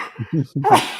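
A single short sneeze bursts out at the end after a few brief voiced sounds, close and clear, with talk around it.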